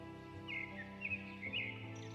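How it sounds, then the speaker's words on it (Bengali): Strange cartoon-style bird calls in a dark forest, several short chirping and cawing notes repeating over a steady tonal background, moderately faint with no one speaking. "মাঝে মাঝে পাখির অদ্ভুত ডাক শোনা যাচ্ছিল।"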